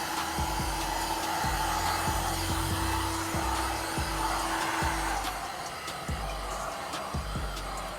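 A heat gun blows a steady, loud whooshing roar while warming paint protection film on a car, with faint clicks and knocks underneath throughout.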